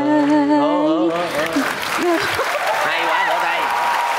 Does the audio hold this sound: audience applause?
yes